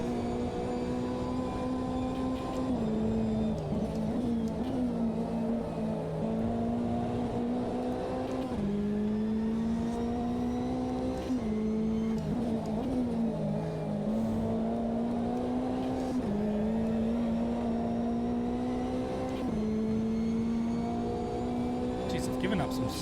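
GT3 race car engines, including an Audi, in the racing game AMS2 at Donington, a loud close drone that rises and drops with repeated gear shifts, plus occasional other cars nearby and someone talking over it.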